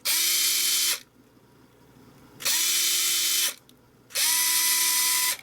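A Fanttik NEX L1 PRO electric screwdriver runs in three steady whirring bursts of about a second each, switching between forward and reverse, close and loud with short quiet gaps between runs.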